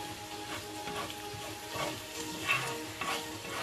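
Garlic sautéing in a pan gives a steady, soft sizzle with occasional stirring scrapes, quiet and continuous with no talk.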